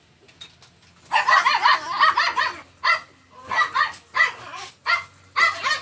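A dog barks repeatedly in short bursts, fairly close and loud, with brief pauses between the barks.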